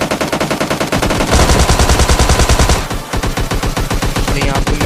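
Rapid automatic gunfire from a shooter video game, loud bursts of machine-gun fire rattling continuously for several seconds with a brief dip before more shooting.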